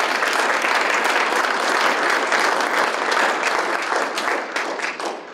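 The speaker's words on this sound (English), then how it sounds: "So you all need to give her a big round of applause." Dense audience applause at a school knowledge bowl competition, steady and loud throughout, many hands clapping close together before tapering slightly at the end, with no talking.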